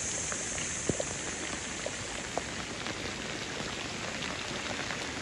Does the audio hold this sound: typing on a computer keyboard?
no